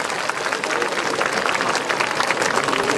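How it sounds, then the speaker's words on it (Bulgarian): Dense, steady applause from a concert audience at a school's 100th-anniversary celebration concert, filling the hall with continuous clapping for the whole stretch. "Аплодисменти за всички вас!"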